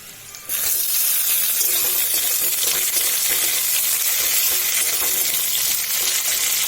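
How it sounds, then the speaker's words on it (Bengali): Onions, tomatoes and spices fry loudly in a pan, a dense, steady sizzle that bursts in abruptly after a quiet half-second and then crackles on without pause, with no voices. "পেঁয়াজ আর টমেটো আর মশলাগুলোকে অ্যাড করে ভালো করে কড়া কড়া করে ভেজে নেব"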